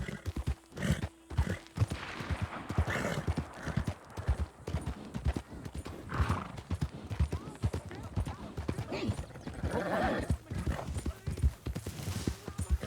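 Horse hooves clip-clop steadily in Red Dead Redemption 2 as a tired horse plods slowly along, the rhythmic beats running throughout with occasional whinnies and a voice talking over them.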